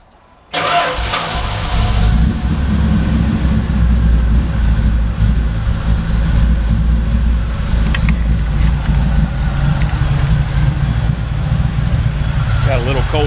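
A cold engine fitted with a Thermoquad carburetor cranks and catches abruptly, then settles into a loud, steady idle with a slightly uneven, choppy rumble that runs for the rest of the clip.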